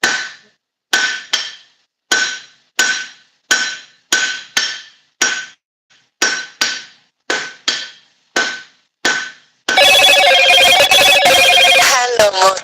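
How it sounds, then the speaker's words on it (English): A hammer forges leaf wall hooks on an anvil with a regular series of loud, ringing metallic blows in twos and threes, then a phone ringtone cuts in at the end. "Half face blow. Half on the anvil, half off the anvil."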